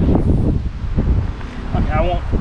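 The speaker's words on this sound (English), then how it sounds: "it was windy and the sand kept getting in my eyes due to the wind" Gusty wind buffets the microphone in a steady rumbling roar on a sandy Brazilian beach, with a voice speaking faintly underneath.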